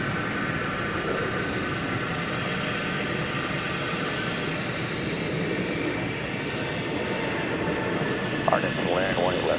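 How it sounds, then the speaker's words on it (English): Jet aircraft at DFW Airport landing and taking off, a steady broad roar of engines held at moderate distance throughout, with a brief rising whine near the end. "So the plane landing was the one from Monterey. The plane taking off was going to Fort Wayne, Indiana."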